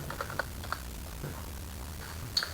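A computer mouse clicks quietly in a spreadsheet program, with faint scattered taps and a sharper quick pair near the end, all close and soft.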